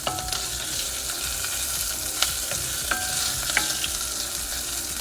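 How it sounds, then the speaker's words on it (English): Meatballs frying in a pan while being stirred, giving a close, steady sizzle broken by a few sharp utensil scrapes and clicks. "Just gonna stir."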